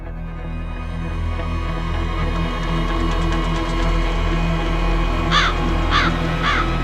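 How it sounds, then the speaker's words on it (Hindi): A crow caws three times in quick succession near the end, loud and harsh, over a steady low hum and background drone. "लगता है इस कौवे के काय काय से माँ भी परेशान हो गई"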